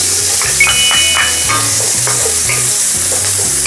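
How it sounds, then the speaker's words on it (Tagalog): Onions sizzling loudly in hot cooking oil in a pan, dense continuous frying hiss up close with stirring scrapes and a low rhythmic thumping underneath. "Painitin na po natin ang ating mantika. O, ayan, mainit na po siya. So, isa na po natin ang ating sibuyas."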